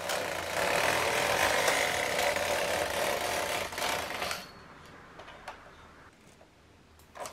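A domestic knitting machine carriage sliding across to knit the first row, a loud whooshing, clattering pass lasting about four seconds, then fading to quiet with a few soft ticks.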